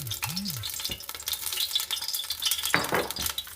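Sliced onions are frying in oil in a pot for rice biryani, giving a loud continuous sizzle close up. A spoon stirs and scrapes the pot now and then.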